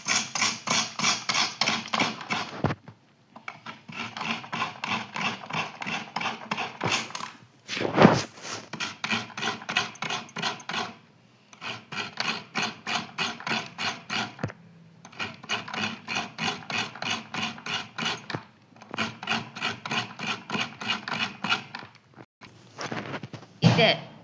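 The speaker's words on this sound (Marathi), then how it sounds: "आता आपण खोबरं खिसून घेऊयात" Coconut is grated by hand for a sweet, sour and spicy chutney, giving fast, rhythmic scraping strokes in long runs separated by brief pauses, close and fairly loud.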